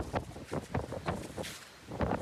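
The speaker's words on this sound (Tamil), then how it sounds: "செட்டோட காத்து அடிக்குது." Strong wind buffeting a microphone near a lorry hauling onions, coming in loud rough gusts in uneven bursts with no speech.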